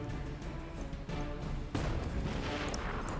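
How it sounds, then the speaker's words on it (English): A tank cannon fires in the strategy video game Battle Nations, with booming shots and crashing impacts over a dense layer of battle noise, one heavy blast standing out midway. "Yeah, tank cannon."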